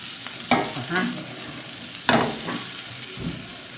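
Chicken pieces cooking in a pan without oil, destined for pizza topping, with soft stirring scrapes and two sharper clatters of a utensil against the pan over a low steady sizzle, close and alone.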